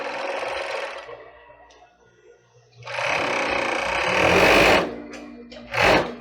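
Sewing machine stitching a lace-covered bra cup: a fast, buzzing run of stitching, a pause, then a longer close burst and a final short run, loud and without talk over it.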